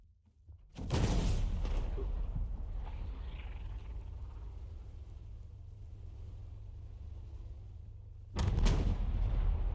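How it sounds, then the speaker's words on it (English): Big explosions in a video game: a loud broadband blast near 0.8 seconds rolls into a long rumbling decay, then a second heavy boom lands close to the end. "That was a big explosion."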